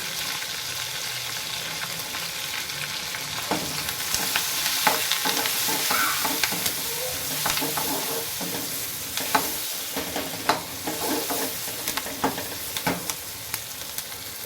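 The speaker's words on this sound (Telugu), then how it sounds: "ఆనియన్స్ ఆయిల్లో కొంచెం ఫ్రై అయ్యాక అల్లం వెల్లుల్లి పేస్ట్ అయితే వేసుకొని బాగా కలుపుకోవాలి" Onions, green chillies and curry leaves frying in oil with turmeric, making a broad, steady hiss of sizzling, with spatula scrapes and taps recurring through the later part, nearby and unaccompanied by talk.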